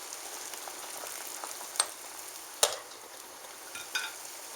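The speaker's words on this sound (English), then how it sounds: "I'm going to give them a slight stir just to make sure that they're all coated in the sauce." Pears simmering in Riesling sauce in a pot are stirred gently: a soft, quiet bubbling hiss broken by a few light clinks and taps of the spoon.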